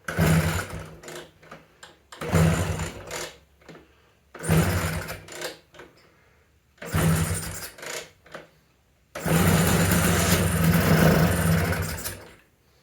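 A 1979 Vespa P200E Piaggio scooter engine, rebuilt after seizing and run with no choke or air filter, flooded with gas: repeated short bursts of rough two-stroke revving that sputter out, then a longer sustained run.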